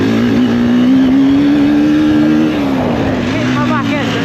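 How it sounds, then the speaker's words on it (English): Enduro motorcycle ridden on a soft motocross track, its engine droning loud and steady with a slight dip in pitch midway, a continuous close-up motor hum throughout. "Doing a motocross track on an enduro bike, it's pretty good, but it's very soft."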